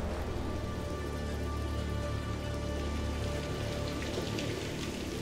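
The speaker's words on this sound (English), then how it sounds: "Why is it always, like, raining and wet?" Steady rain falls in Hitman Absolution, a dense, continuous hiss of drops on hard surfaces at an even level with no speech.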